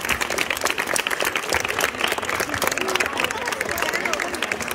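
Audience applause at a school Lion King rehearsal in Ayamonte, sustained dense clapping with crowd murmur and some cheering throughout.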